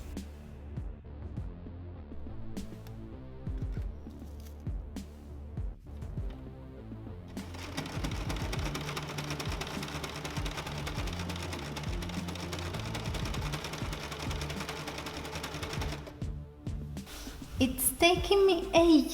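A sewing machine with a thick leather needle and polyester thread stitches a zip into thick material, giving a steady, close mechanical whirr with rapid rhythmic ticking that starts and stops.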